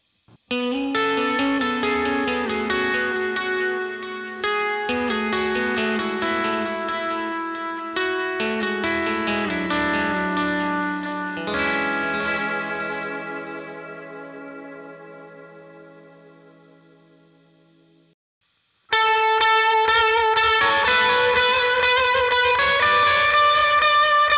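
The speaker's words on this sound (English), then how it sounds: "So I'm gonna turn on my transparent overdrive, my dotted eighth delay, and also the reverb that we just played" An electric guitar played through a transparent overdrive, dotted eighth delay and reverb rings out in sustained, shimmering chords with echoing repeats, fading into a long decaying tail before a new bright strum starts again.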